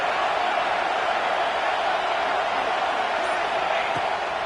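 Stadium crowd in an American football video game, roaring behind the defense on third down: a dense, continuous wash of crowd noise that holds at a steady loud level throughout.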